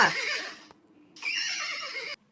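A horse neighs loudly twice, each whinny a shrill, quavering cry with a short silent gap between them, close by and with no talk.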